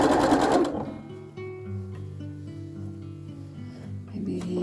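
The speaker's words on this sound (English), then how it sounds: "I feel like I'm sewing a little bit slow today." Home sewing machine stitching pieces for a quilt made from Benartex scrapbag fabric, a steady mechanical whir running near and close throughout with a brief softer rustle at the start.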